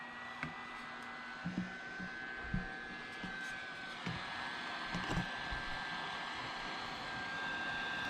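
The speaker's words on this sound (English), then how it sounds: "I'm going to fire up my rework station here." A hot air rework station blows heat onto a laptop heatsink during an MSI motherboard repair, giving off a faint, steady airy whoosh with occasional light clicks and taps of handling nearby.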